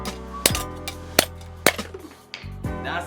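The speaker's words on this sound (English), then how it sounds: "I'm using my my 5 pound hammer" Heavy blows from a 5-pound hammer strike metal a few times at uneven intervals during a brake caliper install on a Honda Civic, each a sharp ringing clang, close and loud with brief pauses between.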